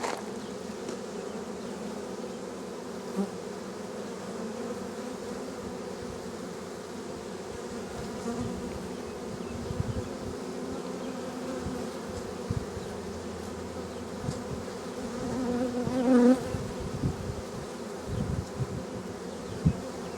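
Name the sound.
bees swarming around a yellow-marked queen at the hive entrance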